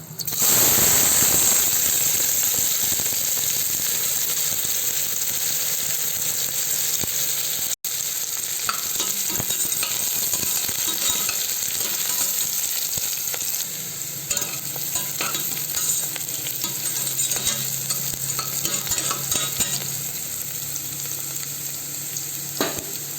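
Cinnamon, cloves, onions and a single chili fry in a little oil in a pot, giving a loud, continuous close sizzle with faint scraping from stirring throughout, and no voices.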